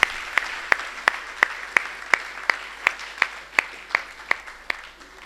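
Audience at an open-air Hindi kavi sammelan poetry gathering applauding a child poet, steady clapping with sharp periodic accents roughly every third of a second, moderately near and continuous throughout, no voices over it.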